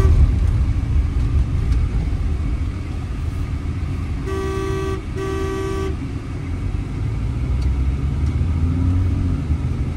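A 2018 Tata Hexa XTA diesel automatic on the road with a steady low engine and tyre rumble close by, cut midway by two short car-horn toots.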